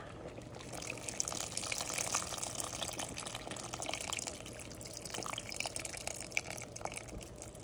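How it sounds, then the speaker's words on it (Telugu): Tamarind juice is poured into a pot of simmering vegetable sambar, giving a soft, continuous watery trickle and splash at low volume. "సో ఇప్పుడు నేను చింతపండు పులుపుని వేసేస్తున్నాను ఇందులోని"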